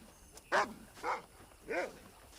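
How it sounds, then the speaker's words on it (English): A dog in the 2010 video game Red Dead Redemption barks three times in an even rhythm, each bark sharp and moderately close over a low background hum. "Ha, stupid dog."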